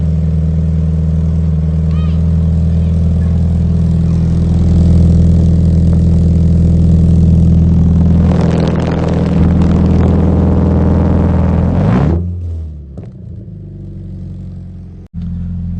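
Scion FR-S with a new Greddy catback single big-tip exhaust, idling with a deep steady rumble, a brief rise in revs, then shutting off to near silence; a voice is faintly present.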